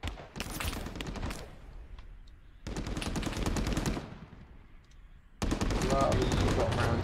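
Bursts of machine gun fire from a Call to Arms military real-time strategy battle, three loud sustained volleys of rapid automatic shots separated by brief lulls, with faint game voices in the background.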